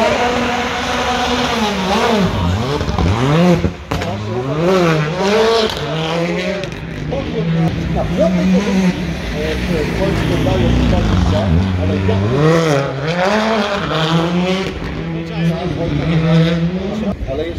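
Rally cars at Rajd Barbórka on the Karowa street track, engines revving hard and rising and falling through gear changes with tire squeal, loud and close, under continuous excited commentary.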